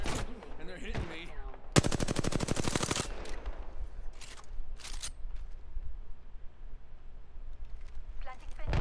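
Video game gunfire: a dense burst of rapid automatic shots, loud and close, with scattered single shots and a player talking over the battle.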